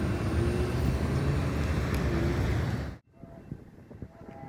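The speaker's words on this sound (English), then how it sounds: "we see another CSX freight passing through" A CSX freight train rolls past as a loud, broad steady rumble that cuts off abruptly partway through, leaving quieter background noise afterward.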